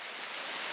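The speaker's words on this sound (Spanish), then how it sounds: "Empezó la lluvia." Rain begins to fall on a farm field being tilled for maize planting, a steady, dense hiss that stays even and close for a brief moment, with no voices.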